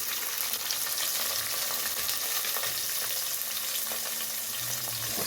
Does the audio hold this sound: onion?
yes